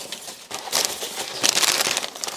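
Amazon packing paper being crumpled by hand up close, a few quick crinkling bursts, soft and unaccompanied.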